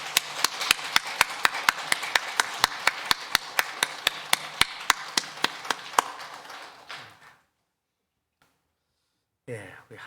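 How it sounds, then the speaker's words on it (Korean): A steady run of sharp, rhythmic claps rings out for several seconds in a church service, evenly spaced and loud, then stops abruptly into silence before faint sound resumes. "힘찬 박수로 영광 돌리겠습니다."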